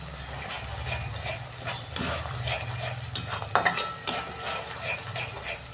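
Spices such as Kashmiri chili powder, hot chili powder and a little coriander powder stirred and sautéed in a pan for vegetarian turmeric-free ghugni; a steady low sizzle with repeated scraping and clinks of a spoon against the pan, close and alone.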